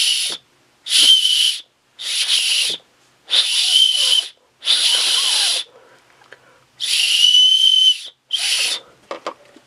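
A small survival whistle from an Ozark Trail 4-in-1 survival watch kit gives about seven short, shrill blasts, loud and close, separated by brief silences.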